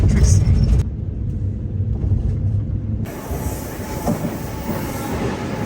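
A regional train rides along the line toward Monterosso, a steady rumble with clattering wheels, loud and close from inside the carriage, the noise dipping briefly partway through.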